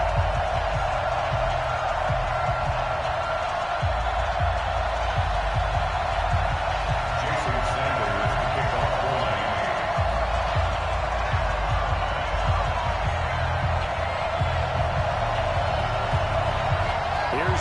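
A stadium crowd in the Madden 20 football video game fills the background with a constant, broad roar at M&T Bank Stadium in Baltimore, under continuous commentator speech.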